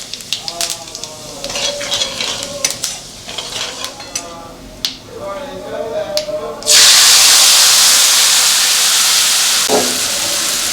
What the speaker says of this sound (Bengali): ফোড়ন দেবো জিরে